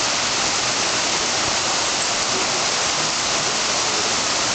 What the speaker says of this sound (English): this is our first big storm. You can see how it's coming down.